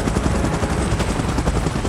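A helicopter in the PUBG Mobile video game gives off a steady, loud rotor thrum with dense low-frequency chopping that fills the whole clip on its own, with no voices.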